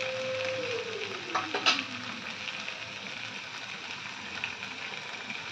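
A spice paste frying with pomfret fish in a pan crackles in a steady sizzling hiss, with a few brief scraping clinks of stirring near the middle and no talk.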